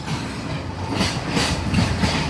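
A train rolls past near a roadside on the way to a private bus stand in Colombo, Sri Lanka, its steady rumble punctuated by rhythmic clickety-clack wheel beats, fairly loud and without talk.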